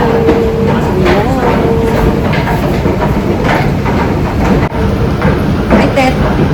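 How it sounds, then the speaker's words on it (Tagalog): An underground train ride in Paris, with a loud constant rumble and rhythmic rail clatter close by, and people talking over it. "Sakay kami ng train."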